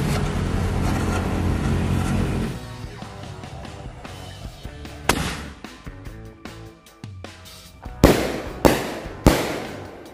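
Firecrackers and fireworks set off during a Ramadan evening outing, a dense crackling barrage at first, then several separate loud sharp bangs and pops with short gaps between them.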